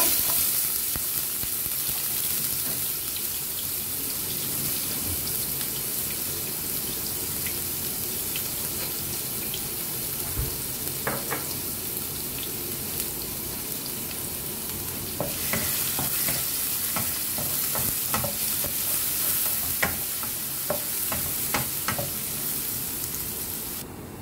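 Garlic sautéing in cooking oil, a constant crackling sizzle with intermittent spatula scrapes and taps in the pan, close and steady throughout with no talking.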